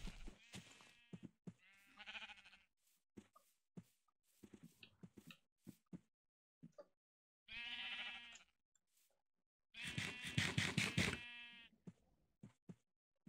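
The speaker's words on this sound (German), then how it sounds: "Kommt mit, meine 5 Schafe." Sheep bleating in the Minecraft video game, several short, loud bleats in separate bursts with quiet gaps between them.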